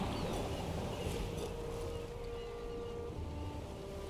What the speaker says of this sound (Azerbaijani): qayıq getdi